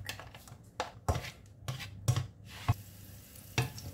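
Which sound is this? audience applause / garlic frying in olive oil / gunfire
garlic frying in olive oil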